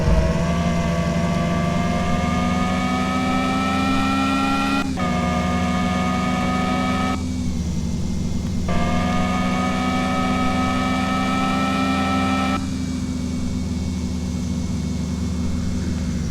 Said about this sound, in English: Oh, this car's pretty zippy.